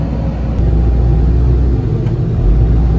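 A ranch loader tractor carrying two hay bales pushes through deep snow after a blizzard, its engine giving a steady, loud low rumble with slight surges in power throughout.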